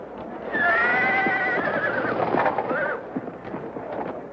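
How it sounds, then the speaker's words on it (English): A horse at a racetrack starting gate gives a loud, drawn-out whinny with a quavering rise and fall, close by, followed by clattering, shuffling noises and a fainter neigh as it quiets. "who's that black horse acting up?"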